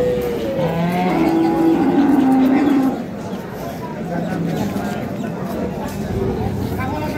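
Sahiwal, Sindhi and local-breed dairy cows with calves at a village cattle market in Ambari bellow in long, drawn-out moos. A loud call carries over the first three seconds, set against a busy crowd and nearby talk.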